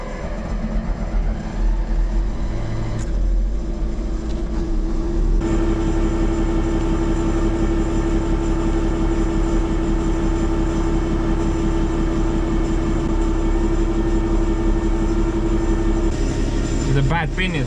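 A 1987 Volvo BM L120 wheel loader drives on a test run, its diesel engine a loud, steady drone with a persistent tonal hum and mechanical clatter throughout, briefly shifting near the start and end, with a voice faintly present.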